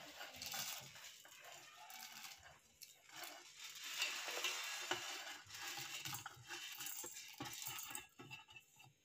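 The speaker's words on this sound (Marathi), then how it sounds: "हे मिक्सरच्या भांड्यात टाकून घेते मी।" Whole chai masala spices drop into a mixer grinder jar with a quiet run of light clattering, rattling and tinkling against the jar.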